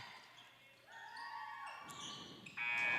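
A loud, sustained electronic buzzer sounds in an indoor arena over crowd noise and the squeak of a bouncing basketball.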